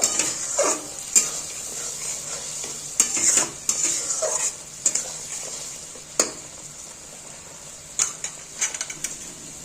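A pot of prawn kofta malai curry sizzles and bubbles steadily, with occasional sharp clinks and scrapes of a spoon against the pan.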